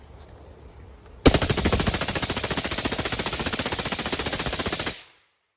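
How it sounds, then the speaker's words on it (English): A rifle fitted with a Rare Breed FRT forced-reset trigger and fed from a PMAG D60 drum fires one loud, unbroken burst of rapid shots lasting nearly four seconds outdoors, then stops abruptly. "We're gonna try and run this PMAG D60 through it, see if we get any kind of jams or hangups at all."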